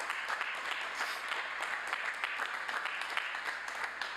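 A commencement crowd at Southern Illinois University's 2021 spring ceremony applauds steadily and fairly loudly, a dense wash of clapping that holds evenly throughout with no talk over it.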